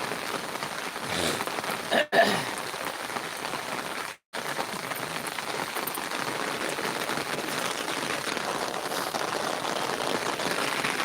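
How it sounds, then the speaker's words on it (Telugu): Steady, heavy rain pours down in Tirupati in a dense hiss, briefly cutting out twice, with no voices. "ఏడతెరపు లేకుండా పడుతుంది వాన"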